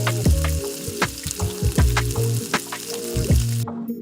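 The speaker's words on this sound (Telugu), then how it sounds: "పచ్చిమిరపకాయలు కొంచెం వేగాలన్నమాట, పచ్చివాసన పోయేదాకా వేయించుకున్న తర్వాత" Green chillies frying in oil with cinnamon and cloves for an egg curry, a loud close crackling sizzle broken by sharp spitting pops at irregular intervals, ending abruptly, no talking.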